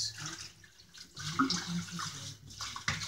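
Water runs and splashes in a sink while organic farm-grown collard greens are rinsed, a steady washing wash with brief swishes and pauses, fairly close and moderately loud.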